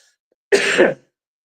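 A single short burst of coughing and throat clearing from a man on a Punjabi news discussion, close and distinct against silence, lasting about half a second.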